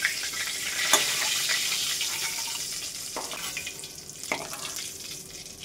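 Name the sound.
frying mourala fish being lifted from pan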